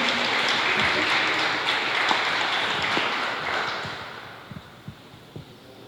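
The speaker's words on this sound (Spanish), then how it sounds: "Un aplauso al maestro Javier Ramírez." An audience at a catalogue presentation applauds a speaker with dense, steady clapping that gradually thins and fades over several seconds, ending in a few scattered claps.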